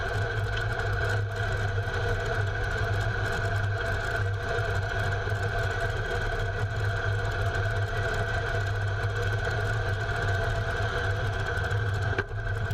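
A Ridley Junior modified pulling tractor in the 2.5-tonne class runs its radial engine at a tractor pulling event. It produces a continuous, even, deep drone that stays constant and fairly loud for the whole stretch.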